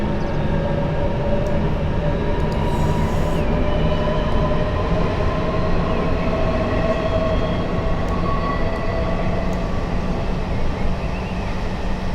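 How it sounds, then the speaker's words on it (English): A London Underground S8 stock train departing in Train Simulator 2019, a steady, loud electric motor drone with rising whining tones and rumbling running noise throughout, with no talking. "while that train departs, let's read this quickly"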